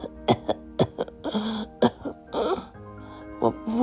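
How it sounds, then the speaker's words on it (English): A child coughs in a series of short, sharp bursts mixed with throat clearing, close and fairly loud, with quiet pauses between fits. "I can't stop coughing."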